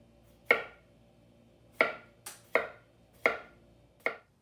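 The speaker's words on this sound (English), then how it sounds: "I'm gonna get started slicing these." Knife slicing regular cucumbers for kimchi on a cutting board, giving five crisp, evenly spaced chops with a sharp attack and a short decay, close and clear with no talking.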